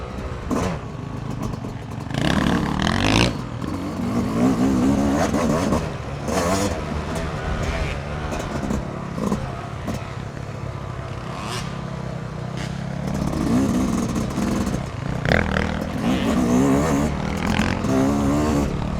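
Yamaha YZ250 two-stroke dirt bike taking a slow sighting lap in second gear at Brushy Mountain Motorsports Park, engine revving up and down in close, raspy surges with clattering, and a voice speaks briefly.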